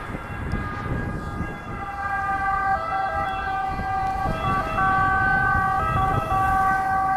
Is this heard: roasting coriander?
no